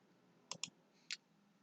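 Three crisp, close key clicks in quick succession from a computer keyboard shortcut being pressed, in an otherwise quiet room.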